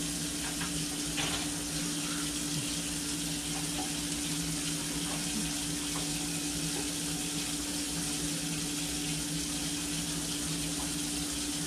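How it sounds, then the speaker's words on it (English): Cold water runs steadily from a kitchen tap while cups are washed, a constant loud hiss with faint clinks, and nobody speaks. "And I need cold water running."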